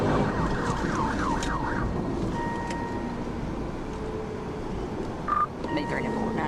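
A police patrol car siren wails during a pursuit, sweeping up and down loudly in the first two seconds and then holding steadier tones under constant road and engine rumble, with a voice speaking over it.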